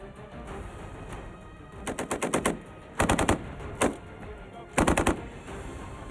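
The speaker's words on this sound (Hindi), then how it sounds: "बीकानेर की महाजन फायरिंग रेंज में दोनों देशों के सैनिक इन राइफलों से ताबड़तोड़ गोलियां बरसाते दिखे।" Several bursts of rapid automatic gunfire from American-made assault rifles at the Mahajan firing range in Bikaner, each a quick string of sharp cracks, separated by short pauses, fairly distant and echoing.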